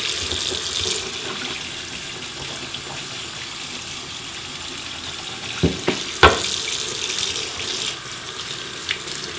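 Tap water runs steadily into a sink while makeup brushes from a professional kit are rinsed, a continuous close splashing hiss with a few brief louder splashes near the end.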